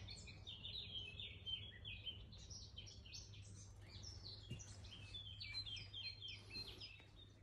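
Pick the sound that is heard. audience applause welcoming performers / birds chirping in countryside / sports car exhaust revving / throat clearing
birds chirping in countryside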